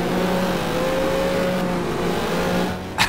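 Lotus Cortina race car in GT Legends, engine droning steadily at high revs with a sustained tonal whine, loud and close, followed by a brief sharp burst at the end.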